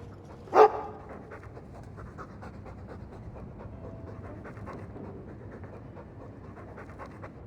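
A Mabari war dog in the video game Dragon Age 2 pants steadily and quietly in fast, even breaths after one brief louder sound near the start.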